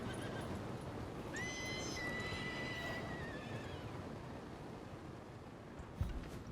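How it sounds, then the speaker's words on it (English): Horse neighing in the video game Ashes of Creation: a single clear whinny rising and trailing off over a steady outdoor ambient bed, with a soft thump shortly after. "Let's tame a horse."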